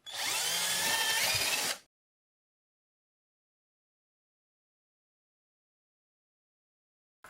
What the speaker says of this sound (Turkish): Panelin ön kısmına şuradan bir delik deleceğiz.